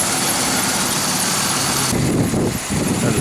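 A Pontiac 3800 V6 idles in a steady, fairly close rumble that runs on without talking and shifts to a rougher, more uneven texture about two seconds in.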